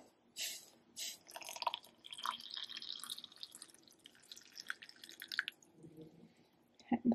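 Water trickles and splashes into a bowl in close, quiet bursts of dripping and gurgling, starting and stopping several times before a soft clunk at the end.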